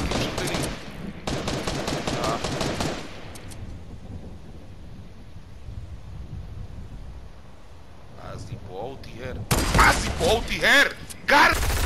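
Video game gunfire in Fortnite, with dense rapid bursts of automatic shots at the start and end and quieter scattered game sounds between them, while players talk over it.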